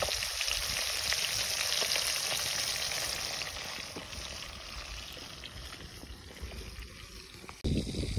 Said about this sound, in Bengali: ছোট মাছেই আজকে আমরা ভাজা করছি